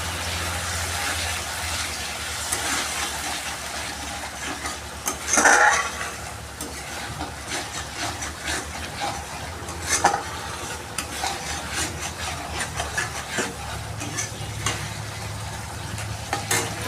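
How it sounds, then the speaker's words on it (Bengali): Hot water added to a spice masala frying in oil for a Bengali fish curry, producing a continuous loud sizzle with steady stirring and scraping of a utensil against the pan, plus a few sharp clinks. "এরপরে আমি একটু গরম জল অ্যাড করে দেবো।"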